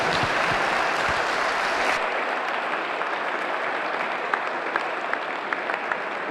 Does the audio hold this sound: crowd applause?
yes